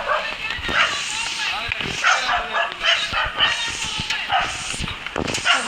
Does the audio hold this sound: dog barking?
yes